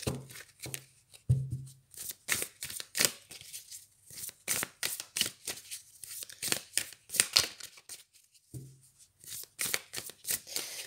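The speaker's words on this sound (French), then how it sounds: "je vais en prendre une dernière. Dernière carte." Tarot cards riffled and shuffled, then one drawn from the deck, producing rapid close papery flicks and riffling bursts in irregular clusters, soft and crisp.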